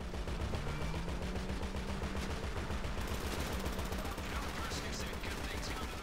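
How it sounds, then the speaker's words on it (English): Sustained rapid gunfire in Grand Theft Auto V Online during an insurgents mission, dense machine-gun bursts rattling continuously, loud and close. "I'm getting shot at"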